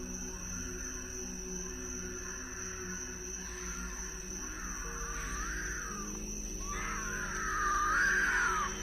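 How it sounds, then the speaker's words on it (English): Faint, distant wavering screams rise from inside dark woods over a steady low hum, growing slightly louder toward the end. "it's then when we can hear the screams of a human blaring from inside the woods"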